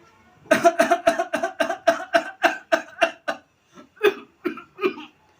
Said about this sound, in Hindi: फिर उनके पिताजी खांसते हुए, बेटा मलुआ, काफ़ी दिनों से खांसी बहुत ज़्यादा बढ़ चुकी है